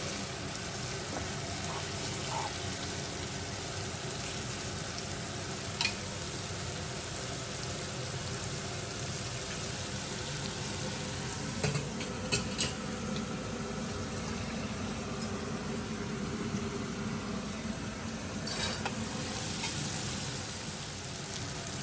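Chicken pieces frying in a pan for chilli pepper chicken make a continuous, fairly quiet sizzle throughout, with a few faint clinks and scrapes now and then.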